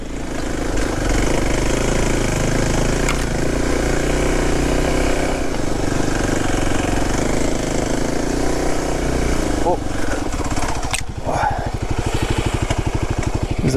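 A motorcycle engine drones steadily and loudly throughout while riding, with a brief throttle change near the end.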